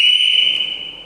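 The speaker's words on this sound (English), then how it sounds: "you have an alarm on the bike, and it is very loud." A 2014 Harley-Davidson FLHTKSE motorcycle's security alarm blares as a loud, steady high-pitched electronic tone, held continuously for about a second with no talk over it.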